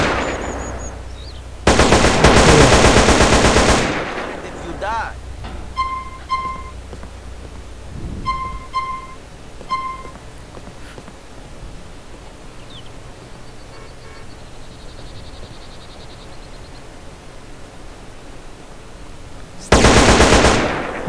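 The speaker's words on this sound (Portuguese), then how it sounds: "Quem é que tá atirando?" Automatic gunfire in a GTA San Andreas mission mod set at a factory, two loud sustained bursts at the start and end, with softer game beeps and effects in between and no talk.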